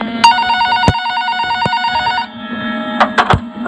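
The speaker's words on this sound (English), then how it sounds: "the phone on the counter rang" A telephone sitting on a gas station counter rings in a steady electronic warble, with repeated bursts of the ring continuing loud and close, followed by a few sharp knocks near the end.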